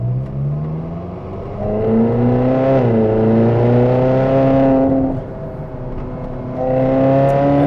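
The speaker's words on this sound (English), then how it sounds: "to really get a bit of a grunt out of the exhaust system" A Ferrari California 30 V8 heard from inside the car under a hardtop, its engine and exhaust droning loudly with the pitch rising and falling as it accelerates and eases off, without talk.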